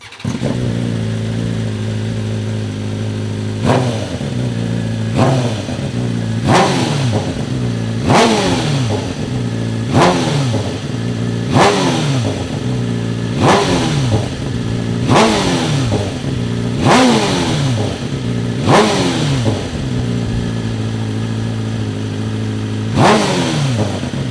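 BMW M1000RR motorcycle with an SC Project slip-on exhaust idling with a deep burble, then revved sharply again and again, about a dozen loud throttle blips in a steady rhythm.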